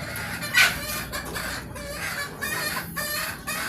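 Several chickens cluck and squawk close by in a busy, overlapping chatter, with a rooster-like call early on and no talking.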